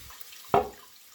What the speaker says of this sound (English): just turn on the nozzle, and that's the sound it makes